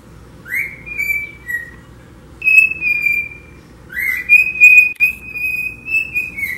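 A chick chirping at home, giving a few high, clear whistled peeps that slide in pitch, with short pauses between calls over a quiet room background.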